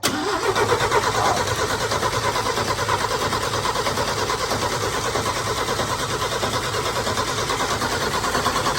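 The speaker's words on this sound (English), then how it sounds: "hopefully that's enough crankerage to crank her over" The engine of a Chevy K10 Squarebody truck cranks over steadily and loudly under the starter, a dense rhythmic churning that carries on without catching.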